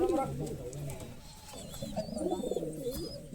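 A Girebaz pigeon, male, coos in soft low repeated calls close by, with faint chirps from other birds mixed in the background.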